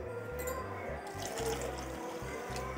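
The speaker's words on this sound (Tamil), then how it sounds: "தண்ணி இப்போ ஊற்றிக்கலாம்." Water poured into thick hand-mixed pearl millet porridge (kambu koozh), a steady close trickle and splash running throughout without a break.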